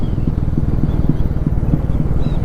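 A motorcycle engine thumps in a steady low rhythmic idle-like beat during a ride on a hairpin ghat road, loud and close with faint wind noise.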